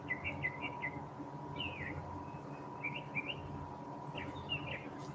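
Small birds chirp and tweet outdoors in short repeated phrases, fairly distant over a steady low background hum.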